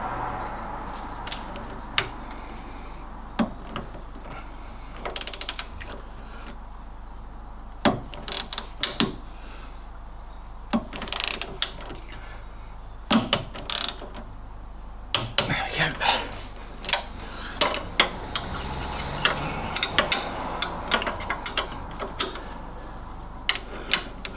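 Ratchet wrench clicking in short irregular bursts while tightening the lower spring pan bolts on an MGB during a suspension rebuild, close and crisp with metallic tool handling between bursts.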